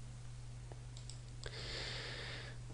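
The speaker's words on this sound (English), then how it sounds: "So right button click and open in a new tab." A computer mouse button clicked in a quiet room: a couple of faint, sharp clicks over a steady low electrical hum, with a brief brighter rustle afterward.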